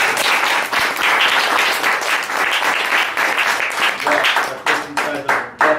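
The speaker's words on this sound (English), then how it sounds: "Give a round of applause" Loud, dense audience applause following a magic card trick, steady clapping from many hands that thins out toward the end with a few scattered claps and some faint voices underneath.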